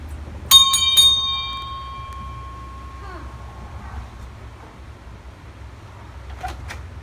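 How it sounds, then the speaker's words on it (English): A doorbell chimes once at a house door, a bright ringing tone with a long fading decay, over quiet background room noise, followed by a faint rattle near the end. "Ring the bell."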